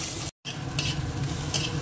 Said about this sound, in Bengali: পেঁয়াজটা ভাজা হয়ে গেছে লাল করে